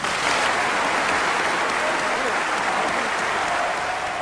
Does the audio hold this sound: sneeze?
no